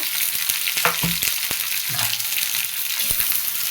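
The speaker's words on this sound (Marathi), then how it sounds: "तेल गरम झालं टाकून घेते मी कांदा" Sliced onion frying in hot oil for kombda kanda, a loud, steady close sizzle broken by a few soft knocks as a spoon stirs the pan.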